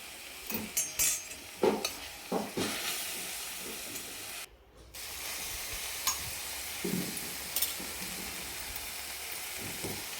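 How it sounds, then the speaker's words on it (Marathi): Fenugreek leaves stirred and sautéed with salt in a pan, a soft steady sizzle and hiss under repeated scraping strokes of a spoon, fairly quiet and close. "मेथी टाकून छान परतून घ्यायची मेथीची भाजी नरम होईपर्यंत थोडं मीठ टाकून परतून घ्यायची"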